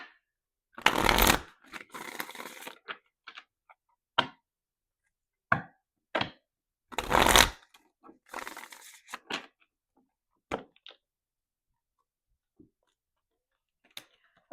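Tarot cards are shuffled in a few loud riffling bursts, followed by scattered soft taps and clicks as the deck is handled and squared.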